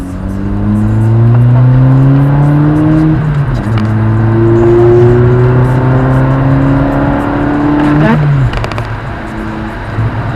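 A car engine revs hard and close, its deep, throaty roar climbing in pitch through the gears, dropping briefly at each shift before rising again.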